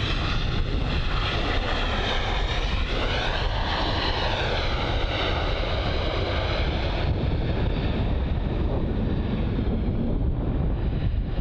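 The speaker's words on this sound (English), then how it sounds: "There is a Wizz jet. It's the A320-200." A Wizz Air Airbus A320-200 jet at London Luton airport gives a loud, steady engine roar with a slowly shifting whine across the whole stretch, mixed with gusting wind buffeting the microphone; no voices.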